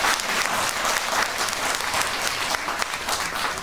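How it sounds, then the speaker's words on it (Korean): A congregation at a Sunday church worship service breaks into loud, continuous applause, a thick wash of many hands clapping together without pause for several seconds. "집사님 큰 박수 한번 감사하겠습니다"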